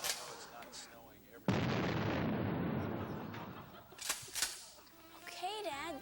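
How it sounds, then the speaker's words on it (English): A gunshot shooting out a TV in a comedy sketch: a sudden loud blast followed by a long rumbling burst that fades, then sharp cracks, with voices reacting. "you don't have to shoot out the TV"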